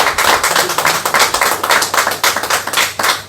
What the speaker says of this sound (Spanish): ¿Qué te parece si le damos un aplauso al Señor?